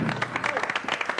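Applause from RC Lens football supporters in a studio audience, a dense burst of clapping with some crowd noise mixed in, close and fairly loud over the whole moment.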